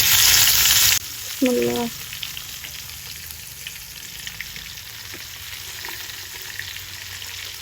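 Fish roe fritters frying in hot oil, a loud hiss and crackle at first that drops to a steady softer sizzle, with a brief spoken word early on and a faint tone underneath.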